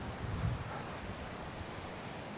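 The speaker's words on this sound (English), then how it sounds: "There's the river behind us again." The Big Wood River rushing steadily past a forested hiking trail, a broad constant roar mixed with gusty wind buffeting the microphone, with no voices.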